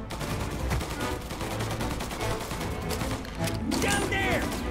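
Gunfire in the video game Mafia Definitive Edition: dense rapid bursts of shots over loud rumbling game noise, with a voice talking partway through.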